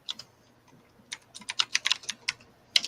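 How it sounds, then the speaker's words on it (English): Fast typing on a computer keyboard, bursts of quick close key clicks starting sparse and growing into a dense rapid run near the end, with no voices. "typing like crazy, typing away"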